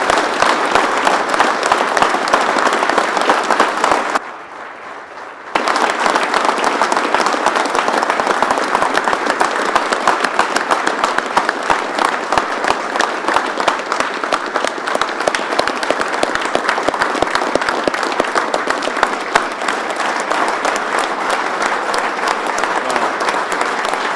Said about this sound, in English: let's give this guy a warm round of applause